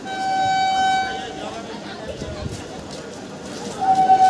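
A train horn sounds as a blue ICF passenger train pulls into a busy, hot station platform, a steady tonal blast at the start and another short blast near the end over crowd talk and station noise.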